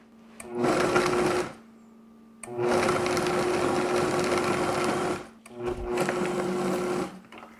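A Vitamix blender pulses chopped kale in three loud bursts of whirring motor noise, each lasting one to two seconds, separated by short quiet gaps.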